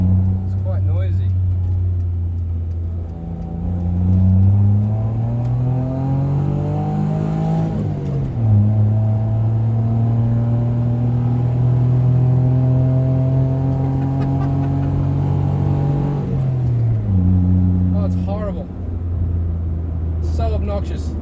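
Suzuki Every DA52V kei van fitted with a cheap $40 aftermarket exhaust, droning loudly as the engine revs under power, pitch rising and falling through several pulls, close and continuous with talk over it.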